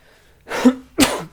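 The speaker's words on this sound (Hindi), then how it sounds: "सर्दियाँ आ गई हैं तो खांसी थोड़ी हुआ करेगी" Two harsh coughs in quick succession, close and fairly loud, with a brief pause between them and no talking.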